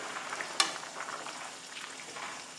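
Spaghetti boiling in a pot is stirred, a soft scrape and clink near the start followed by a steady bubbling, hissing simmer at close range.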